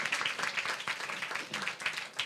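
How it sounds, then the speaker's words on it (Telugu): A church congregation at a Christmas gathering claps together as a song is released. The clapping is dense and moderately loud, forming a continuous patter of many hands with a few voices mixed in. "పాట రిలీజ్ చేస్తుండగా చప్పట్లు కొడదాం అందరం"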